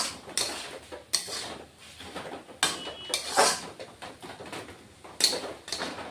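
A pan of fried red amaranth greens is lifted off a gas stove in a home kitchen, giving a few light metallic clanks and scrapes at spaced intervals, faint and close, with no talking.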